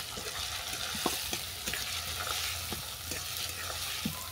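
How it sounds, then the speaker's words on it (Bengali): Fried potatoes are stirred with cumin powder and garam masala in a hot pan. A soft, steady sizzle runs underneath sharp, irregular scrapes of the spoon against the pan, with no talking. "এটাকে ভালো করে মিশিয়ে নিলাম।"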